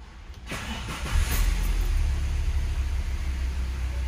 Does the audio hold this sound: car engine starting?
yes